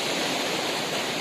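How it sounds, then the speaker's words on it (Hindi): Canal water in Changa Manga forest, Pakistan, rushes and falls over a drop, a loud, dense, unbroken roar close by with no voices. "लेकिन जैसे ही नहर जो है वो थोड़ा सा आगे जाके गहराई उसकी आती है तो पानी बड़ी तेज़ी के साथ ये देखें गिरता है"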